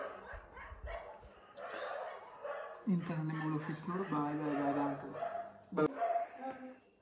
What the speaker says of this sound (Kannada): ಹೊರಗಡೆ ಏನು ನಾಯಿಗಳು ಬಹು ಅಂತವೆ